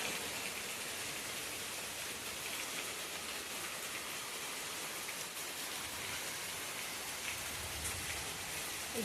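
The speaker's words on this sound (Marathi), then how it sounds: "अचानकच पाऊस इलेलो हा" Sudden rain pouring down in a Konkan village, a steady dense hiss of drops striking surfaces, even and continuous throughout with no voices.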